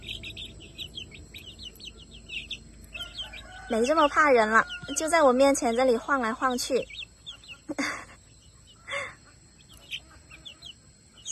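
Young chickens, including a small hen, call loudly close by in a burst of several wavering, warbling cries, with softer chirps before and after and a person talking in between.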